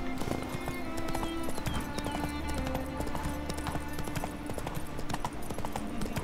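Rapid hoofbeats of a galloping horse during a horse race in The Witcher 3: Wild Hunt, over a steady bed of game music, with a brief whinny in the mix.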